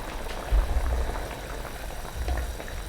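Beef rendang simmers in a covered pot over medium heat, a steady low bubbling with soft liquid pops, close and continuous throughout with no talking.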